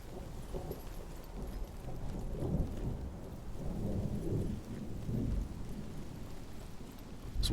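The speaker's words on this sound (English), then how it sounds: "Does it stop raining if I go down here?" Rain and a thunderstorm in a video game, a soft continuous patter of rain with low rolling thunder rumbles swelling and fading underneath, fairly quiet and without voices.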